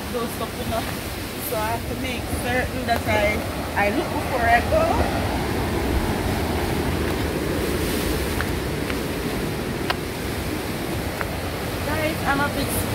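Rough sea surf at a Jamaican cliffside resort in Long Bay, Portland, a broad, constant roar of breaking waves and wind with a person talking over it.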